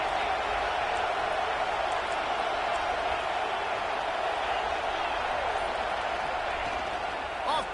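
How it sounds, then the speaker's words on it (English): Stadium crowd at a football game, a broad steady roar of cheering and noise, distant and sustained throughout. "This crowd still bringing the intensity to open the second half."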